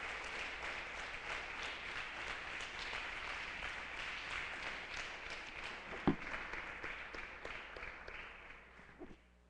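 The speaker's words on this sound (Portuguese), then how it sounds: "fique em pé para que os irmãos possam conhecê-la e nós aplaudirmos a Jesus pela tua vida" A church congregation applauds during a worship service, sustained clapping from many hands at moderate distance that tapers off near the end, with one sharp knock partway through.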